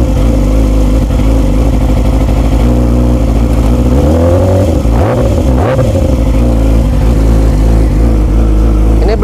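A new big motorcycle with a partial, not full-system exhaust revs close and loud, a deep throbbing idle broken by a couple of sharp throttle blips midway before settling back.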